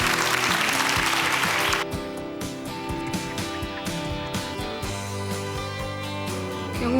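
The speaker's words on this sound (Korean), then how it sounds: "여러분 따뜻한 격려의 박수 부탁드리겠습니다" Studio audience on a Korean TV quiz show gives a round of applause after a contestant is eliminated. A dense burst of clapping opens, then gives way to music that continues to the end.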